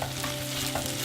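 Sisig and Rice-a-Roni stirred together in a frying pan, a steady close sizzle with soft scraping strokes of the utensil through the food.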